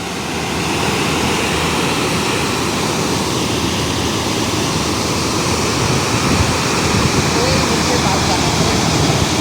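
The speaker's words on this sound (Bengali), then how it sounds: "জোর দেখো জলটা" Water rushing forcefully through Massanjore dam in Jharkhand, a loud, continuous broadband roar of churning flow that stays steady and close throughout with no letup.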